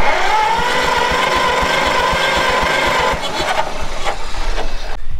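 A 1934 Allis Chalmers Model M tractor engine cranking over without starting, a loud, close, rapid rhythmic churning of the starter and turning engine that changes character near the end before stopping abruptly.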